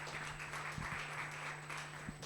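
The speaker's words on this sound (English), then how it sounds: "Let's give him a big round of applause as he steps to the stage" Audience applause at an international library conference on human-AI interaction as a speaker steps onto the stage, a steady, moderately faint wash of clapping with a low hum beneath it.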